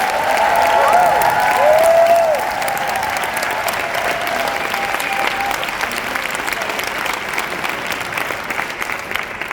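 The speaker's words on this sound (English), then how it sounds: "let's give them a big round of applause" Applause from a crowd at a leadership retreat, welcoming first-time attendees; steady, dense clapping fills the whole stretch, loudest at the start and then holding even, with only a faint voice beneath.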